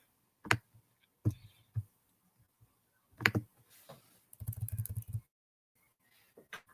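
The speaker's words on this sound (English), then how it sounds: "Let me type it out for you." Someone types on a computer keyboard in sparse, close clicks: a few isolated keystrokes, then a quick cluster of taps in an otherwise quiet room.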